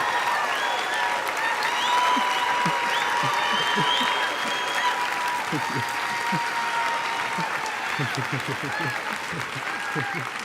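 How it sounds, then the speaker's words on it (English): A school assembly audience gives a standing ovation, with dense, sustained clapping and heavy foot stomping thumping underneath, loud and steady throughout with crowd voices mixed in. "You may want to stomp with your feet, clap with your hands, make big, loud noises."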